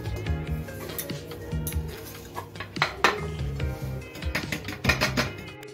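A plate set onto a cake tin while turning out an eggless semolina cake, close clinks and clatters of metal and crockery in short irregular bursts, fairly quiet, no talk.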